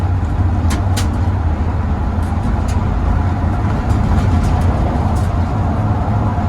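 Steady, loud engine drone of a 1981 Oldsmobile Delta 88 pulling in second gear down a hill, heard from inside the car with road rumble, and no clear shift into third.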